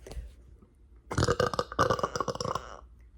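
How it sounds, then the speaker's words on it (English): A long, loud, rumbling burp lasting well over a second, with a short low gulp just before it and quiet afterward. "I haven't ate, so that's just burping"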